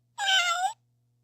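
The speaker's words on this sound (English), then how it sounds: "Cat." A single cat meow, close and clear, lasting just over half a second against otherwise near silence.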